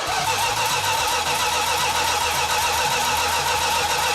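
An all-original one-owner 1969 Dodge Super Bee A12 with a six-pack V8 and four-speed fires up and settles into a loud, steady, rumbling idle close by.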